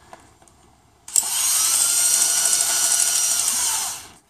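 A strut spring compressor is tightened with a power tool, which cuts in after a second of near silence with a steady, loud mechanical whir and runs for about three seconds before winding down, close by with no talking.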